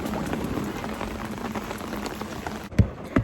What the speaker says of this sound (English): It's raining but not too much